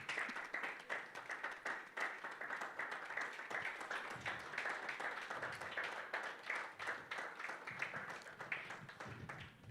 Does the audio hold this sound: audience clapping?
yes